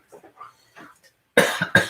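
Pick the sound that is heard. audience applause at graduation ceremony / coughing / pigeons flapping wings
coughing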